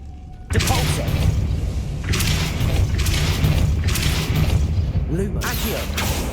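Depulso spell cast in Hogwarts Legacy: a sudden loud whooshing blast followed by a sustained rumbling, crackling magical burst with a few surging swells, as a voice speaks.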